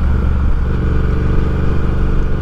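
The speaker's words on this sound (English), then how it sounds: "it's an awesome bike. Just an awesome bike." A 2019 Triumph Speed Twin motorcycle engine runs steadily at close range while being ridden, a loud, smooth, continuous low rumble with no talk over it.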